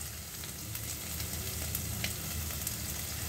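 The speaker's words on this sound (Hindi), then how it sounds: "और गाजर को हल्का सा सौते करेंगे 1 मिनट आधा मिनट" Carrots sauté in a pan for a vegetable sabzi, giving a soft, steady, even sizzle that runs unbroken and fairly quiet, with no talking.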